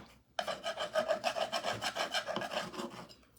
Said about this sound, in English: you can also get some sandpaper and sand it a little bit